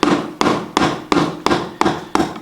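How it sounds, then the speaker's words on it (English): A chisel cutting a steep V into timber while building a timber frame stair landing: seven crisp, evenly spaced wooden strikes about a third of a second apart, close and fairly loud, with no talking. "I would take my chisel and I will make a pretty steep V right"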